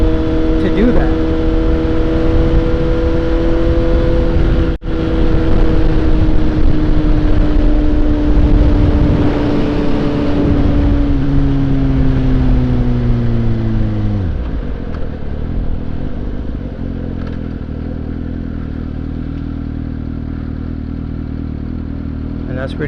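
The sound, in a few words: Suzuki GSX-S750 motorcycle engine riding in third gear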